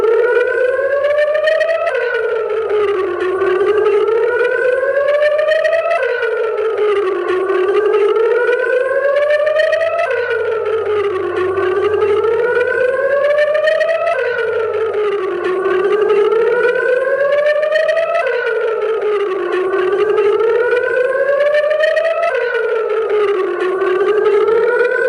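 A civil defense air raid siren wails loud and steady, rising and falling in long repeated cycles about every four seconds for the whole stretch, with no voices over it.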